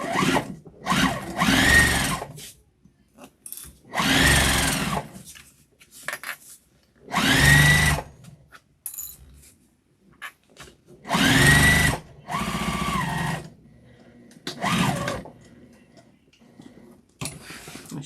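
A sewing machine back-stitches a tote bag seam in short, loud, close bursts of whirring separated by silences, with the bursts starting and stopping in an uneven rhythm.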